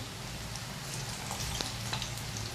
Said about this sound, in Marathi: आता ही आपण भाजू देऊया एक बाजू